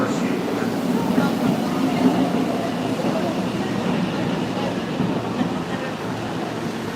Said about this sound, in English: here it comes, the Meitetsu Super Express, bound for Higashi Okazaki